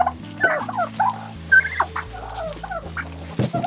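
Several turkeys gobble close by on a farm, a run of loud, warbling calls repeating throughout with short gaps between them.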